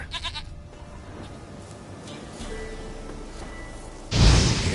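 A goat in The Witcher 3 video game lets out a short, wavering bleat at the start, followed by quiet ambience and a loud whooshing rustle toward the end.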